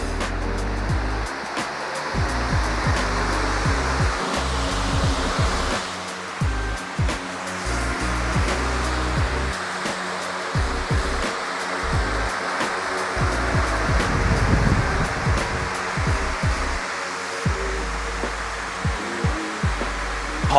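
Vyper garage fan cranked to full speed, a steady broadband whooshing rush of moving air, close and continuous with small fluctuations.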